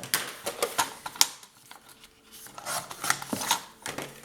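Paper for a scrapbooking accordion folio is being cut, with close, rhythmic rasping and scraping strokes in short bursts separated by brief pauses.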